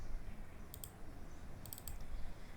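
A few faint, crisp computer mouse clicks while navigating Windows folders, two small clusters of quick taps over quiet background hiss.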